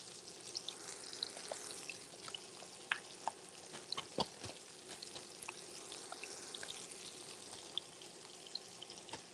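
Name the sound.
chicken frying and sizzling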